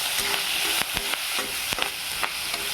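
Curry leaves sautéing in oil in a pan, a steady close sizzle broken by repeated sharp scrapes and taps of the spoon stirring against the pan, with no talking.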